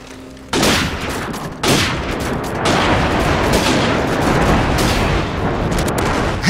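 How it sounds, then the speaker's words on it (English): Explosions from a friendly airstrike in the video game Call of Duty 4: Modern Warfare, a loud sustained barrage of booming blasts and rumbling gunfire, with fresh impacts hitting at intervals and no speech over it. "Friendly airstrike on the way."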